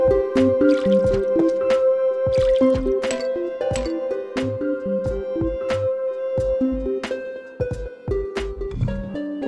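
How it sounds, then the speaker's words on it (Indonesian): Plants in the Zen Garden of Plants vs. Zombies get watered, giving a busy run of cartoonish drips and squishy liquid plinks over light game music. "Zen Garden kita siram tanaman kita dulu"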